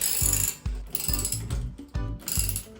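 A hand ratchet tightens suspension bolts on a Sonoma S10 minitruck in about six quick, close, rhythmic bursts of clicking separated by short pauses.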